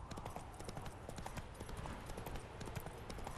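A horse gallops in The Witcher 3, hooves clip-clopping in a fast, steady rhythm throughout, with faint game ambience beneath.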